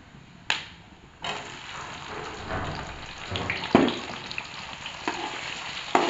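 Onions fry in a pan toward golden brown, with a dense, close sizzle that jumps in after a sharp clatter and carries on with stirring clicks and occasional louder pops.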